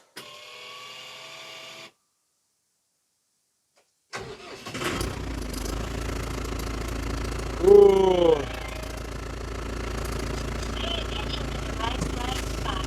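New 2024 tractor engine cranks and catches after a brief silence, then settles into a steady low idle, with a short louder rev partway through and the rumble continuing to the end.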